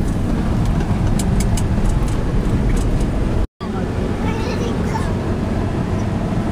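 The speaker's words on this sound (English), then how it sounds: "Driving to Nagadeepa." A car travels the road from Jaffna to Nagadeepa in Sri Lanka, giving loud, continuous close road and engine rumble. The sound cuts out briefly once midway, then resumes.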